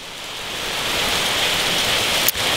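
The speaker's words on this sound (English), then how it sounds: "So it's raining." Steady rain falls outdoors around a car after brake pads have been installed, a dense continuous hiss with no voices and a brief dip near the end.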